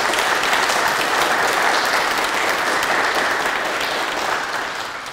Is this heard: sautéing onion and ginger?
no